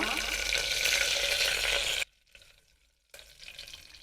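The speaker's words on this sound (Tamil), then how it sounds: "கடுகு பொறிஞ்சிருச்சு கருவேப்பிலை போட்டுக்கலாம்" A burst of loud sizzling as curry leaves hit hot oil with popped mustard seeds, then abruptly cutting to near silence before a softer sizzle returns.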